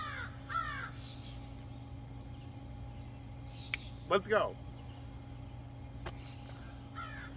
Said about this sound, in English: The bird wants to check it out.